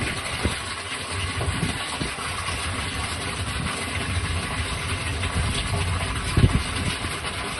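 A submersible water pump motor runs with a steady low hum and churning rumble, a few brief knocks and thumps rising over the continuous drone.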